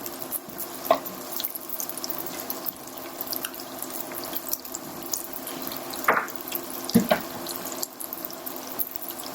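Chicken stock is poured into a cooking pan, giving a soft continuous liquid splashing and trickle with a few sharper clinks, close and moderately quiet.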